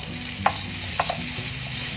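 Margarine sizzles in a wok heated for stir-frying, a steady close crackle with a couple of brief sharper pops standing out, no voices over it.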